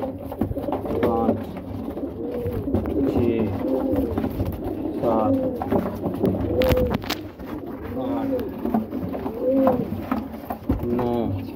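Several high-flyer pigeons coo repeatedly in soft throaty warbles, close by, over a steady background hum with occasional rustling.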